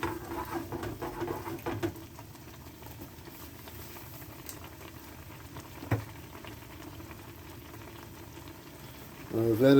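A pot of food with garlic simmering in water on the stove gives a soft, steady bubbling and light patter throughout, with an occasional faint clink.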